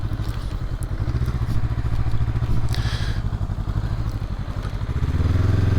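A 2023 Honda SCL500 Scrambler rides over muddy ground, its parallel-twin engine chugging steadily close to the microphone, then revving up to pick up speed near the end, with light clatter and thumps along the way.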